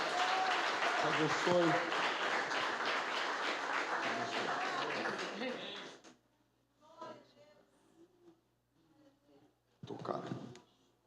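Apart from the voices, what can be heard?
church congregation applauding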